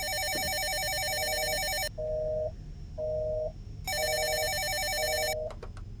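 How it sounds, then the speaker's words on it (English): A telephone rings inside The Forgotten Apartment video game: two long, loud electronic bursts with a gap between them, and softer tones in the pauses, set against a steady low ambient hum. "The phone."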